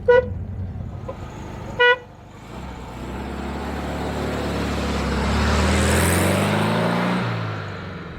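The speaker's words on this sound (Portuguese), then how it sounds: "Vou ver se ele tem buzina" Two short Volkswagen Beetle horn toots sound close by, then an engine starts up and rumbles louder as the car pulls away.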